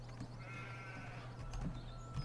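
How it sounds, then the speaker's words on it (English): Sheep bleat in the Farming Simulator 17 game, a few short bleats spaced over a quiet low hum, fairly faint and with no speech. "So there's the sheep. They're doing fine."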